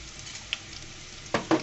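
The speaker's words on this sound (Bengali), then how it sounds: "পেঁয়াজ ভাজাটা কিন্তু একটু সময়ের সাপেক্ষা সেই জন্য একটু সময় নিয়ে বেজে নেবেন" Onions fry in a pan with a steady, close sizzle, broken near the end by two sharp scraping knocks of stirring; no voices.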